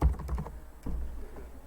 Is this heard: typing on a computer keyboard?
yes